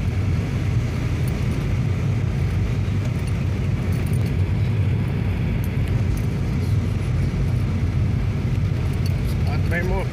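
A car drives through a busy city centre in Rondonópolis, Mato Grosso, a steady engine and road rumble with constant traffic noise around it.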